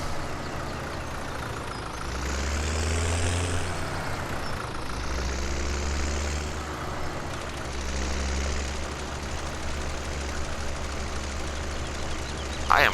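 Tractor engine running in Farming Simulator 17 on PS4, a steady droning rumble that swells and eases as the revs rise and fall several times, continuous and moderately loud with no talking.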